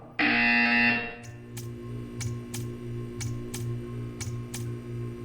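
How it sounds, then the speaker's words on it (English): A loud electronic buzzer in the game Portal 2 sounds once in a sharp burst lasting about a second, followed by faint, regular ticking clicks over a low machine hum. "You will hear a buzzer."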